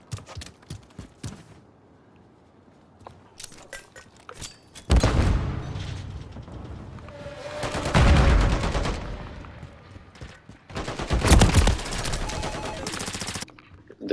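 Handgun shots in Call of Duty Modern Warfare III, first as sparse sharp cracks, then in loud dense bursts of gunfire mixed with other in-game weapons and explosions, separated by quieter stretches.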